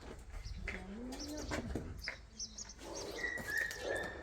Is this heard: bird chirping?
yes